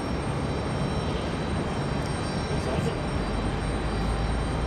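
A Beechcraft King Air turboprop departing Raleigh-Durham International Airport, heard as a steady, continuous broadband engine roar holding at even loudness throughout, with no other sounds standing out.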